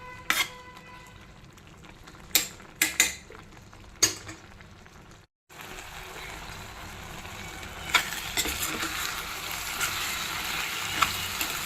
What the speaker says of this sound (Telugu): ఇప్పుడు బాగా కుక్ అవుతుంది, మాడకుండా.